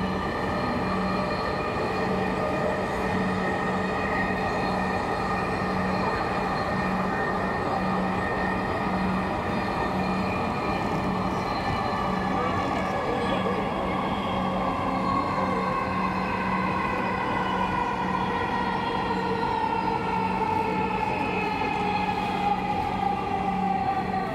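Metro train riding into Mirpur 10 station in Dhaka, with a steady loud rumble, a whining motor tone slowly falling as the train slows, and no talk.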